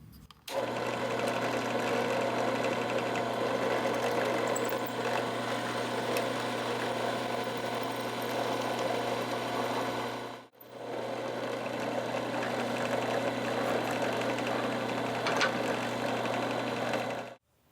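A drill bores holes through knife handle scales in a workshop, a steady, close motor hum with a dense buzzing tone in two long runs split by a brief stop.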